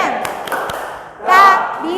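Classroom of vocational high school students doing a rhythmic clap chant, a few sharp claps in quick succession followed by a burst of group voices, close and loud.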